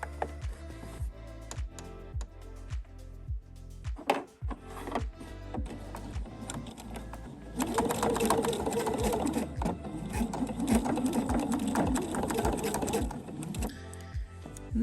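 A sewing machine stitches around bias tape about a millimetre from the edge, its steady mechanical whirring running the whole time, with a brief pause near the middle before it resumes louder and fuller.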